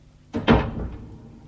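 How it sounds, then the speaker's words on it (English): A door is shut indoors with a single firm thud and a brief rattle, followed by a short fading resonance in an otherwise quiet room. "Tim, shut the door."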